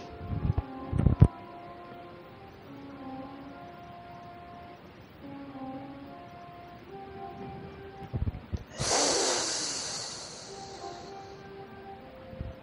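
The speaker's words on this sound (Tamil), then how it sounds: "மூக்கை உறிஞ்சி மூச்சை இழுக்கணும்." A sharp nasal sniff drawing breath in during a yoga breathing exercise, one quick loud inhale standing out after a quiet stretch with faint tones and small clicks.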